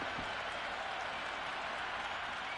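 Spectators at an India versus South Africa T10 cricket match applaud in a steady, dense patter of clapping from the stands, loud and continuous for a couple of seconds with faint crowd noise underneath.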